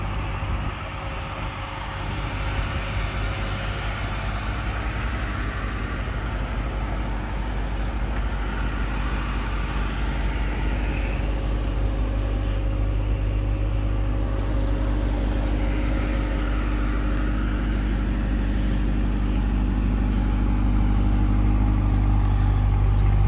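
A 2020 Chevrolet Corvette C8 Stingray 3LT convertible running at a steady, smooth idle, its engine hum low and constant for over twenty seconds with a slight rise near the end and no talking.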